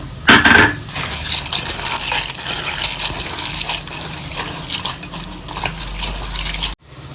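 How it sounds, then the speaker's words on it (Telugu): Raw prawns are washed by hand in a bowl of water, with close splashing and sloshing and light clinks against the vessel, ending abruptly. "కొన్ని నీళ్లు తీసుకొని నీళ్ళల్లో రొయ్యలు వేసి కడుక్కోవాలి"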